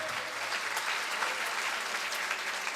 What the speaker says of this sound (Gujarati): ચાલો એક નાની બાળિકાઓ માટે ખૂબ જોરદાર તાળીઓ સાથે